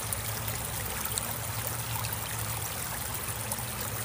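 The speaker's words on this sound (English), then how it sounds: "As the water moves downstream," Water flowing steadily in a stream, a continuous broadband rush and trickle with faint low murmurs, moderately loud and unbroken throughout.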